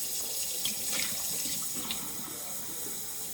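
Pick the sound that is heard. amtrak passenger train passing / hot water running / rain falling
hot water running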